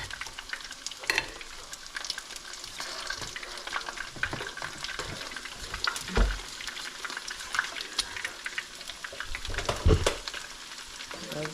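A tablespoon of margarine melts in a hot frying pan, giving a continuous close crackling sizzle with occasional stirring scrapes, no speech over it.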